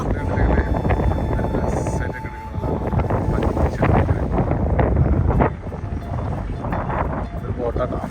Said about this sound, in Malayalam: നല്ല അടിപൊളി കാറ്റാണ്. കാറ്റൊരു രക്ഷയില്ല.